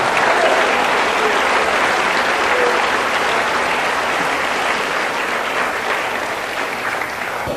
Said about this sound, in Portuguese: Aplausos o Senhor, ele merece toda honra.